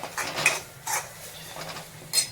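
Spices being stirred in a cooking pan with a utensil, giving a few short scraping clinks spaced across the moment, soft and close with no voices.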